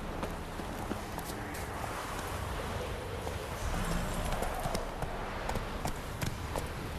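Horse hooves galloping on a road in the video game The Witcher 3, a steady rapid clip-clop running throughout under ambient game sound, with faint voices in the background.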